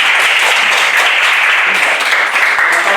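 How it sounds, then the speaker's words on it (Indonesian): Applause from a class of students in a university lecture room, a dense steady patter of many hands clapping continuously with no voices on top. "beri tepuk tangan semua dulu untuk yang"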